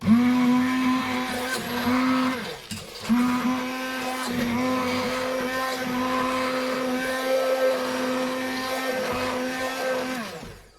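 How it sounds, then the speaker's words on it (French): A blender whirs continuously at a steady pitch while coarsely mixing carrot jam, briefly interrupted once, then running on loud and close. "Je vais mixer pour que ça n'ait pas trop de morceaux."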